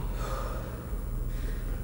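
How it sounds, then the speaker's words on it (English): One soft, close breath drawn in and let out during a relaxation exercise in an online class, quiet and brief, with no talking. "So, we're going to be breathing in, breathe out."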